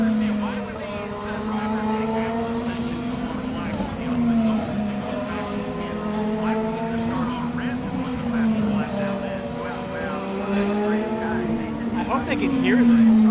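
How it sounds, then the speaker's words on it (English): IndyCar race cars roar past on the Road America circuit during 2021 REV Group Grand Prix qualifying, a sustained engine whine bending in pitch as several cars sweep by in succession, loud and near. "I'll wait until the cars pass here."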